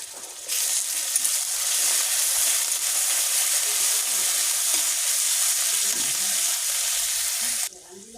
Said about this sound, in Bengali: এটা কষাবো